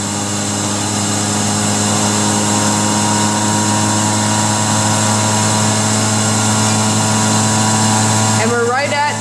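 A Drucker Plasmafuge-6 six-tube horizon-rotor centrifuge spins at about 6500 rpm with a loud, steady high-pitched whir and hum that holds constant throughout, with faint talk near the end.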